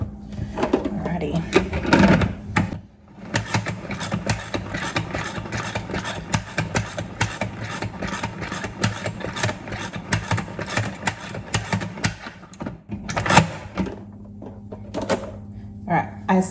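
A spinner spinning out wet wool socks, a steady mechanical whirring drone that runs for most of the stretch, with clunks at start and end and a person talking intermittently over it.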